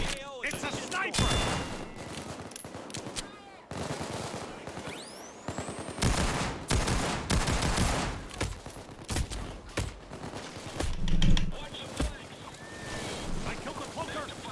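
Bursts of rapid gunfire and fusillades fill a Payday 2 bank heist at Brooklyn Banks, loud overlapping volleys with sharp shots and brief lulls.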